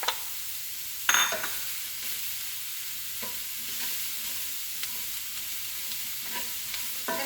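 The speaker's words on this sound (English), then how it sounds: "continue sauteing until the onions are tender, translucent, and the mushrooms have sauteed" Sliced mushrooms and onions sauteing in a hot pan, a steady broadband sizzle throughout with a few louder stirring scrapes and clatters, no talking.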